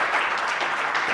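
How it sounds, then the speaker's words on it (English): A brief burst of dense applause from an audience, steady and fairly loud throughout. "I would like you to make a round of applause"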